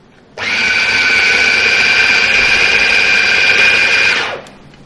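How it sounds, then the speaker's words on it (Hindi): An electric food chopper grinds chickpeas, garlic and onion for falafel, a loud steady whirring motor running for about four seconds alone before winding down. "ये भी चॉपर में ही सही पिसता है, इसमें ब्लेंडर में नहीं होता ये"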